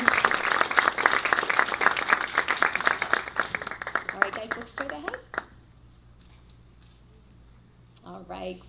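Audience clapping at a summer violin recital, a dense burst of applause that thins into a few scattered claps and fades out, followed by quiet and a brief voice at the end.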